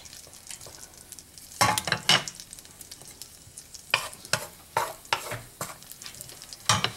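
Wine goes into garlic frying in oil and butter in a pan, giving a steady soft sizzle broken by several sharp hissing bursts and stirring scrapes, close up with no talking.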